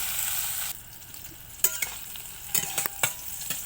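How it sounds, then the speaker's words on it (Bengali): Capsicum fries in oil in a pan with an even, hissing sizzle that softens after a moment, broken by several sharp clinks and scrapes of a spatula against the pan. "ক্যাপসিকামটাও সেম একইভাবে ভেজে নেব"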